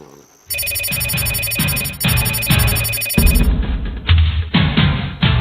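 A telephone rings in repeated loud electronic bursts, each followed by a brief gap, with a thudding background score playing underneath throughout.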